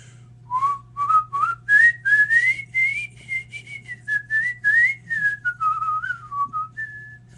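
A single person whistles the Andy Griffith theme, phrase after phrase, clear and close over a steady low hum.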